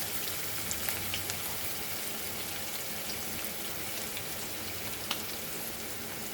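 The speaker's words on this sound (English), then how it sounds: "we'll add our ginger garlic paste also in this." Ginger garlic paste fries with mutton brain and onion in hot oil, a steady dense sizzle with scattered crackling pops, close and constant throughout.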